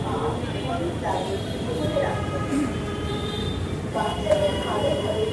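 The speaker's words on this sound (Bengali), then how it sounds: "তো গাইস এই মুহূর্তে আর কি আমি এসে একটা মেট্রো রেলে" Low rumble and rattling of a metro train in motion in Dhaka, with faint wheel squeals and people talking in the background.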